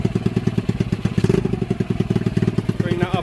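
Honda Ruckus scooter engine idling after a carburettor fit, a rapid, even putter with a steady thumping rhythm heard close up, with talking over it.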